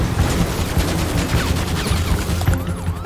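Rapid gunfire crackles continuously through a GTA 5 roleplay police chase, dense and loud against a rumbling, busy background with no clear pauses.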